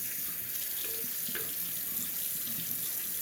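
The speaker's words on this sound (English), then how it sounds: "Gonna wet it underwater for a bit." Tap water runs steadily over a Shapton Pro 5K whetstone held under the stream, a close, even splashing rush with no pauses and no talk.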